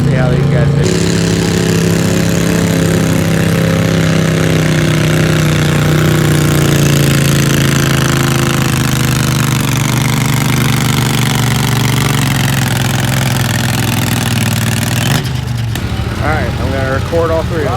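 A lawn tractor engine runs steadily and loudly at close range during a tractor pull, a continuous rumbling drone that shifts pitch slightly before cutting to a rougher tone near the end.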